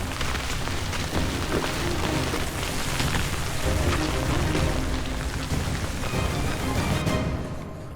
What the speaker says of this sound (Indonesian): Hujan yang awalnya rintik-rintik berubah jadi deras.